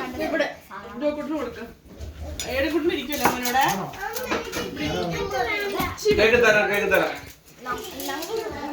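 Spoons and plates clatter and clink while food is served, frequent metallic and ceramic knocks under steady talking, including children's voices.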